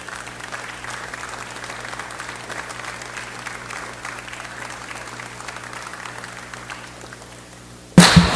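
Applause fills a business session hall, a steady wash of many hands clapping at moderate level for about eight seconds, ending with a louder close burst.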